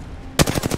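Rapid automatic gunfire from an Apex Legends match played as Lifeline, a quick burst of close, loud shots in even rhythm after a brief quiet lead-in.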